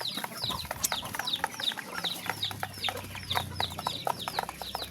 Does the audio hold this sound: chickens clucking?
yes